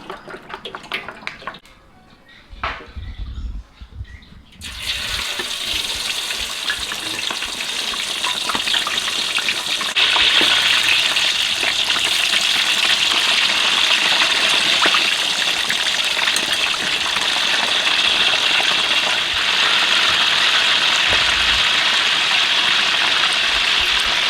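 Pork leg skin frying in two bottles' worth of oil, a quiet start giving way at about five seconds to a steady, loud bubbling sizzle that holds unbroken to the end with no talk.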